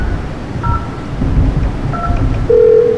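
Telephone number being keyed in on a phone during a meeting. A handful of short, distinct DTMF beeps are spaced across a few seconds, with a final longer tone over low background rumble.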